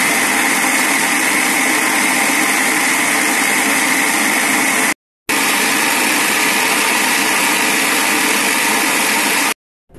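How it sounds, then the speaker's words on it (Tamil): A kitchen mixer grinder whirs at high speed as it grinds soaked rice into fine idli batter, a loud, steady, close motor whine that cuts off twice for short pauses. "அரிசியை ரொம்ப நைஸாக அரைச்சிடணும்."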